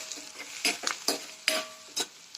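Peanuts being dry-roasted in a pan until reddish, with a spatula scraping and stirring in several short strokes against the metal and a light sizzle, close and quiet, with no voices.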